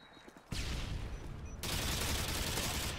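Gunfire from an RPD machine gun in the game Modern Warfare 2, a quiet stretch giving way to a sudden dense burst that grows louder and continues as sustained rapid automatic fire to the end.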